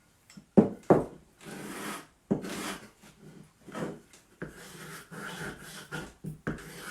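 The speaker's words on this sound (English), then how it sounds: "Then, all you have to do once it's been waxed is just scrape it off." A hand scraper is dragged across waxed, dried paint on a wooden furniture piece, producing several short, close rasping strokes with brief pauses between them and no talk.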